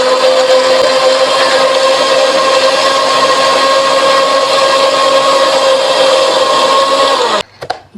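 A blender grinding watermelon and coconut whirs loudly and steadily for about seven seconds with a constant high hum, then cuts off abruptly with a brief rattle as it stops.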